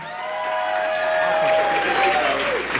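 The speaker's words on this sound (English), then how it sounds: "Guys, one more big round of applause for Mikey Pullman." Applause and light cheering from a comedy show crowd for a comedian, a steady swell of clapping close to the mic over a sustained tonal background hum.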